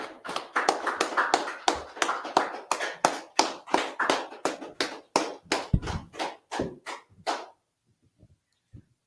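A congregation claps for a newly named sister at a religious class, a steady run of sharp, rhythmic handclaps that carries on for several seconds before thinning out and stopping.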